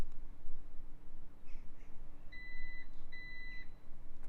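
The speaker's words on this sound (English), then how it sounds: "I heard a beep, so that's interesting." Two short electronic beeps sound in quick succession inside a Lynk & Co 01 car, against a low background hum.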